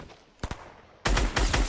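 Video game shooter gunfire: two quick distant shots, then a dense, loud burst of rapid automatic fire that fills the last half second, with no talk over it.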